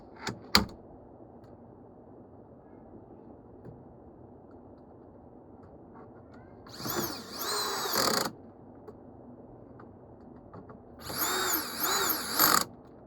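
A power tool whirs in two short bursts, several seconds apart, driving bolts on a 9.5-inch STO control panel counter extension, close and fairly loud against a quiet room after an initial sharp knock; no talking.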